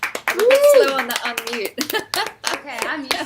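A few hand claps ring out during an online radio show session, sharp and close, scattered among people talking.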